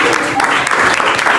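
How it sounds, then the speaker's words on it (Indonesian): Loud, dense audience clapping in a school guidance session, continuous and close throughout a short burst, with a voice faintly underneath. "kan kita tepuk tangan buat Genoy"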